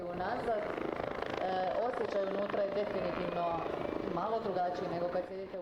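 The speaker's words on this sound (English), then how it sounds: "this OH-58D Kiowa, an advanced variant of the Bell Jet Ranger" Bell OH-58D Kiowa armed reconnaissance helicopter, a Jet Ranger variant, at the 2024 Croatian International Airshow in Varaždin: a sustained rotor and turbine drone with shifting tones, with a voice talking over it.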